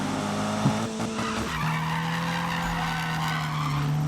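A car drifts in the Need for Speed PC video game, with a sustained tire squeal and skid holding steady over engine drone for several seconds, fairly loud and with no talking.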